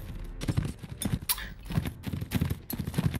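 Horse hooves galloping in the medieval combat game Mount and Blade Warband, a steady repeated thudding beat running through the whole stretch at moderate loudness, with no speech over it.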